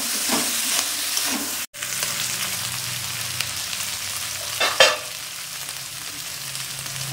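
Ginger paste and slit green chillies are stirred into a sizzling fish curry with coconut, the spoon scraping the pan in a few strokes over a continuous frying hiss, with one sharp knock partway through.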